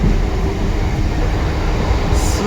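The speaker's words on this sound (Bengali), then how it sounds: "এটা হলো রাতের ট্রেন।" Inside the carriage of a night train on the move, a loud, constant rumble and roar of wheels and car body fills the space, steady throughout, with no voices.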